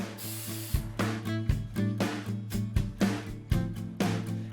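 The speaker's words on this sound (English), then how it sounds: "I applied a liberal coat of undercoating to the back side." Undercoating sprayed onto the back side of a slip-on rocker panel for a 2001 Silverado, heard as bursts of aerosol hiss in quick repeated pulses over a low steady background hum.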